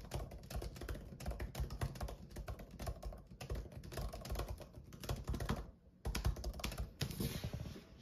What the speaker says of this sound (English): it's nice, crispy, and clicky, comfortable for typing for hours on end without getting tired